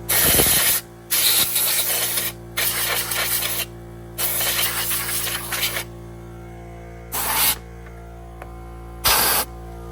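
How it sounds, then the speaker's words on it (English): Compressed air blasting mud, dirt and mouse nests off a Poulan Pro PP175G42 riding mower, a series of loud hissing bursts of one to two seconds, close up, over a constant low compressor hum. "the compressor almost had a stroke, but we got it mostly blown off"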